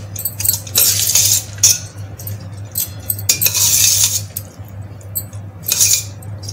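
Utensil clinking and scraping against a pot as chicken is mixed for biryani, with three bursts of metallic stirring over a steady low kitchen hum, no talking.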